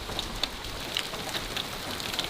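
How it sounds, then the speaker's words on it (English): Rain and hail fall during a storm: a steady, fairly quiet hiss of rain with scattered sharp ticks and taps from stones striking nearby surfaces, and no voices. "this was not in the forecast to get giant balls of hail and giant drops of rain"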